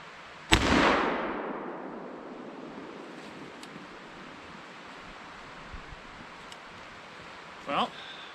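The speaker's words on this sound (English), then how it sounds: "We'll see if my muzzleloader shoots." A muzzleloader rifle fires once outdoors in snow during winter truck camping, a sharp loud crack that rolls into a long fading boom across the open air, followed by quiet wind and a few faint clicks.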